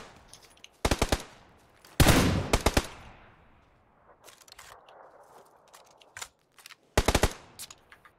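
Sharp bursts of rapid gunfire in the video game PUBG crack out in several short volleys, with quieter scattered shots and background noise between them.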